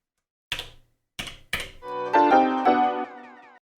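Detuned piano sample played on an Elektron Digitakt: three short percussive hits first, then a sustained chord passage of detuned piano notes with stacked overtones that rings and decays, alone and close.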